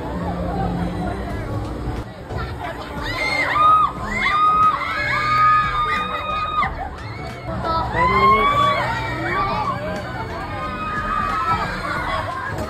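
Riders scream and shout on the Super Viking swinging-ship ride at an amusement park, a continuous crowd of excited yells and shrieks rising and falling in waves over about thirteen seconds, loud and close.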